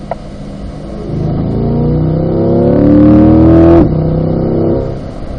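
A car at a performance driving school accelerates up a hill on a racetrack, its engine note climbing steadily and loud from inside the cabin, easing briefly, then building again before a sharp shift near the end.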